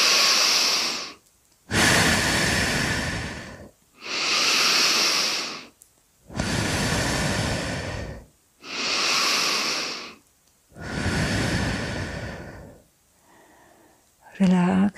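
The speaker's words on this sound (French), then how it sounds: "je vais effectuer 3 vastes respirations" Three deep, slow breaths during a guided relaxation session, each a long loud inhale and exhale separated by short pauses, close to the microphone and followed by a quieter breath at the end.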